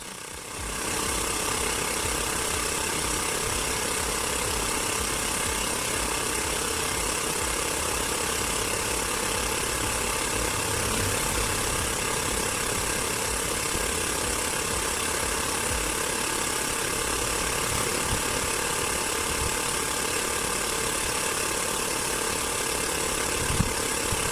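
A Baseus portable air pump runs nonstop, pumping air at around thirty psi. It gives a loud, steady motor drone that starts right away and holds unchanged throughout, with no talking.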